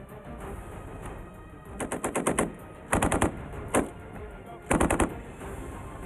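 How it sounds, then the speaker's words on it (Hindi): Rapid bursts of American-made assault rifle fire crack out in several separate strings, loud and sharp with short pauses between volleys, echoing across the Mahajan Field Firing Range in Bikaner, India. "बीकानेर की महाजन फायरिंग रेंज में दोनों देशों के सैनिक इन राइफलों से ताबड़तोड़ गोलियां बरसाते दिखे।"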